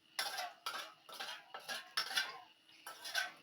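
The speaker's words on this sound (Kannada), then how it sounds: "ನಾನು ಇವಾಗ ಇದನ್ನ ಚೆನ್ನಾಗಿ ಕಲಿಸ್ಕೊತಾ ಇದ್ದೀನಿ" Pizza dough for a tava-cooked chicken pizza is mixed in a bowl, giving about six rhythmic scraping, slapping strokes, each a short burst with brief gaps, fairly close and quiet.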